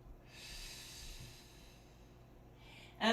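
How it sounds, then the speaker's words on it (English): A slow breath drawn in and let out during a yoga class, a soft, airy rush lasting a couple of seconds, close and quiet, with a brief louder puff at the end. "Open up and take an inhale, exhale."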